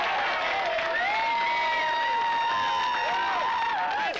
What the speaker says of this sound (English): Let's give a big round of applause for James Hunter